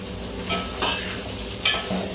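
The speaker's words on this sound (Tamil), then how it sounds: "இப்போ பூண்டு வெங்காயம் ரெண்டுமே சேர்ந்து நல்லா வணங்கணும்." Garlic and onions sizzle steadily in a pan for a Tamil garlic kulambu, with a few stirring scrapes of a spoon breaking through the hiss.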